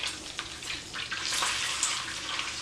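Butter browning in a pan for cornbread, a steady broadband sizzle and crackle that swells slightly midway and holds close and even, with no talk over it.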